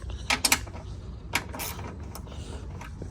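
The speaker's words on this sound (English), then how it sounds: "Just gonna take this bolt all the way out." A 10mm socket on a ratchet clicks and creaks in short bursts as it backs a headlight bolt out of a Pontiac Grand Prix GXP.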